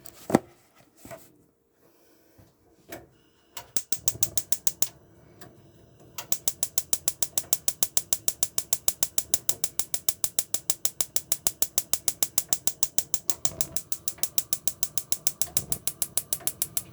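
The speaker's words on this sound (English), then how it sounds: "Gas cooker or gas hob. Let me just ignite that up so you can see it's all working as you'd expect it to." Gas hob igniter on the cooker of a 2007 Sprite Sportstyle caravan: a few scattered clicks at first, then a long, steady, rapid run of sharp ticking clicks, close and alone.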